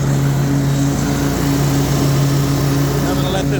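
A Toro Titan ZX4800 zero-turn riding mower with a 48-inch heavy-duty deck idles steadily up close, its engine note a smooth, constant hum with no change in pitch throughout.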